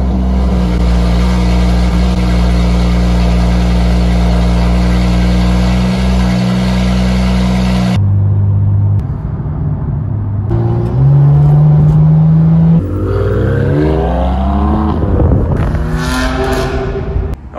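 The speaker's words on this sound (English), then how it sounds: "let's hear what a real car sounds like when it starts up" A BMW M2 CS fitted with a loud exhaust fires up, settling into a loud, deep idle before several sharp revs climb and fall, all close and unaccompanied by talk.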